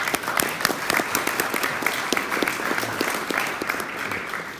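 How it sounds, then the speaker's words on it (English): An audience applauds a speaker at a professional working lunch, steady dense clapping from a sizable crowd that holds throughout without pause. "Please give him a warm applause."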